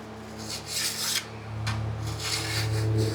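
A hand file rasps back and forth along a metal rail to remove a burr, several close rubbing strokes in a steady rhythm.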